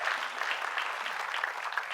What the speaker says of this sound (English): So let's move on to the last group. Round of applause.